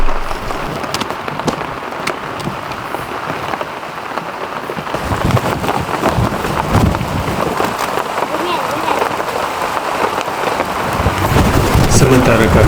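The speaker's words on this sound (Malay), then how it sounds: "tak lama kemudian hujan pun mula turun" Steady heavy rain pours down at a newly opened campsite in Terachi, Negeri Sembilan, drumming continuously on surfaces, with rolls of thunder and occasional voices underneath.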